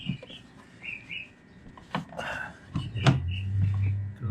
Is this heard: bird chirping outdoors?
yes